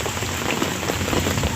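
Heavy typhoon rain pours steadily onto surfaces outdoors, a dense, loud wash of drops without pause, with gusting wind adding to the roar.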